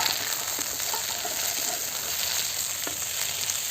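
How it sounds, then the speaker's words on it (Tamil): Tomato and green chillies sautéing in oil for chicken chukka, a dense, continuous sizzle with occasional soft stirring scrapes, close and steady throughout. "போட்டு நல்லா வதக்கிப்போம்."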